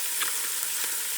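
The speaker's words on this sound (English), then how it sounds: "as soon as this chicken hits, as soon as that butter starts browning up" Chicken wings frying in browning butter give a steady, soft crackling sizzle with a few brief pops. There is no talking.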